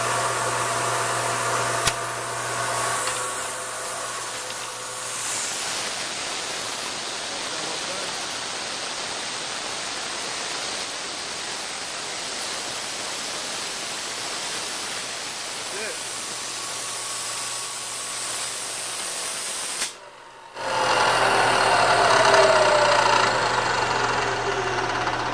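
A steady, loud machining roar fills the shop as a milling machine cuts around the perimeter of a metal handle, continuous for about twenty seconds before cutting off abruptly, then a brief hissing blast follows.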